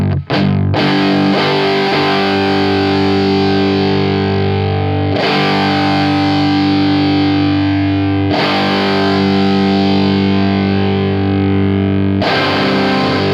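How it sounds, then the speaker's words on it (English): An electric guitar through The Color Box overdrive pedal with the high-pass engaged, loud sustained fuzzy distorted chords struck four times and left to ring, with a buzzy fuzz layer beneath. "you get kind of this like weird fuzz sound in the background"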